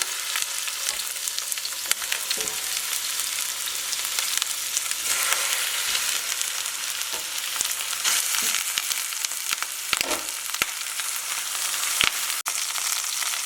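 Lamb shanks sizzle steadily in hot olive oil in a pot, a continuous crackling fry with occasional louder pops and spits.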